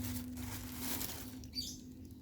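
Bird seed mix of canary seed and millet being stirred by hand, a soft dry rustling patter of grains shifting, with a brief faint chirp near the end and no talk.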